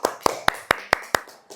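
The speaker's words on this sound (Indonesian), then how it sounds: "Beri aplaus untuk kita semua." A classroom of students clapping in unison, seven sharp, evenly spaced claps close together in a quick steady rhythm during a Pancasila lesson.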